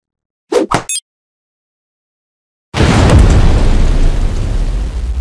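A cartoon explosion destroying an island: a sudden loud, roaring blast that sustains as a dense rumble after a short gap, following a couple of brief vocal sounds at the start.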